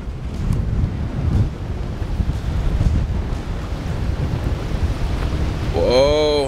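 Strong wind gusts buffet the microphone outdoors, producing a heavy continuous low rumble with surging swells, and a brief whistling tone near the end.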